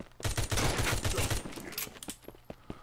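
Rapid automatic gunfire from the shooter game Capsular, a dense loud burst of shots for over a second, then scattered single shots and clicks trailing off.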